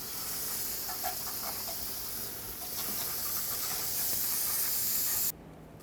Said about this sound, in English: spray some brake parts cleaner all over to get rid of all the dust, brake dust and debris